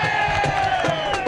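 Vila Carvalho fans at a veterans' amateur football final in Sorocaba cheer after a goal, a dense crowd roar of shouts and whoops that stays steady and loud through a brief burst.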